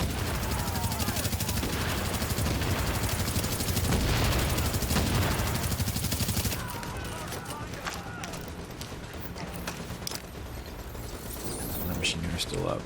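A machine gunner's turret fires in The Division's open world, a dense, continuous stream of rapid gunfire and clattering battle noise, loud and sustained, with a voice talking over it.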